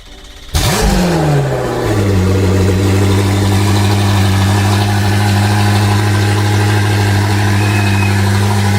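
A Koenigsegg twin-turbocharged 5.0-liter V8 fires up and settles into a loud, steady idle with a deep low hum, alone without talk, running continuously after a brief start-up flare.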